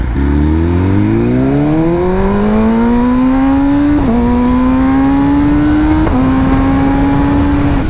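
A 2023 BMW M1000R motorcycle engine revs up loudly and close, pitch climbing smoothly through the gears with two brief shifts, then holding a strong high drone with no talking.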